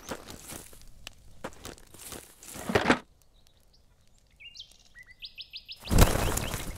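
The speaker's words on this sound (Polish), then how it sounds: "Kurde, te ptaki." Several short, bright bird chirps and tweets sit in a quiet stretch of the ZERO Sievert game world, framed by louder crunching footsteps before and after.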